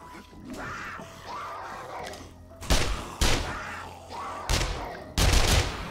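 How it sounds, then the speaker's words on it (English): Gunfire beyond a base wall in 7 Days to Die, with four heavy shots or short bursts landing at irregular intervals in the second half, loud and fairly close, after quieter rustling and movement sounds. "Are they shooting a guy outside the wall?"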